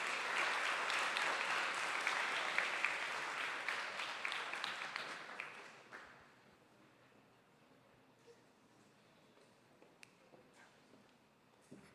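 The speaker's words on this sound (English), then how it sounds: "Let's another round of applause." Applause after a closing keynote at a STEM conference, a full crowd clapping steadily for about six seconds before fading to a quiet room with a few stray claps and small noises.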